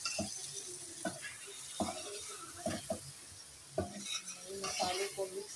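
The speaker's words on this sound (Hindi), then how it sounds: "मसाले को मिक्स करना है," Masala and lemon juice being mixed into chicken for Balochi tikka, soft scraping stirs and clinks against a bowl at an uneven rhythm, quiet and close.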